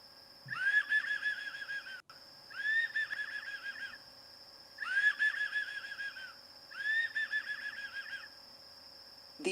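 A person imitates the call of an elf owl, the smallest North American owl: four repeated bursts of rapid, chattering high whistles, each about a second long with short gaps between them, clear and close with no other voices.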